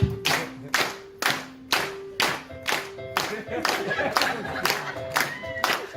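Wedding guests at a best man speech clap in unison to a steady beat, about two claps per second, close and loud, then loosening into busier, overlapping clapping with some voices.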